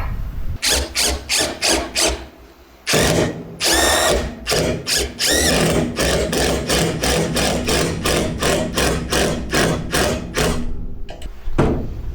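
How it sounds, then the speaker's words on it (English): A power drill bores holes in the wooden deck of a trailer under repair, running in a long series of short, loud bursts with brief pauses between them and one longer gap early on. "I got to drill some holes in this and fix this"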